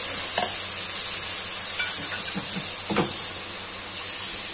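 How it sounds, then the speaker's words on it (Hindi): Onions frying in a pan for an aloo parwal curry give a steady hiss and sizzle, with a few soft stirring scrapes and clinks from a spoon, close by and with no talking. "दो से तीन मिनट प्याज को भूनेंगे"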